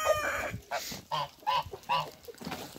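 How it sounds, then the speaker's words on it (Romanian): Farmyard geese honk repeatedly in a quick series of loud, nasal calls, close by and without any talking. "Gâștele."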